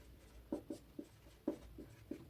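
Chalk or marker strokes on a board during a Hindi geometry lesson on circle theorems, a series of short, light taps and scrapes in an irregular rhythm, close and fairly faint with no talk over them.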